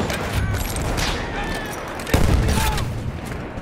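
Machine-gun fire and explosions in the video game Battlefield 1, a continuous battlefield din of rapid shots with a heavy boom midway, mixed with shouting voices.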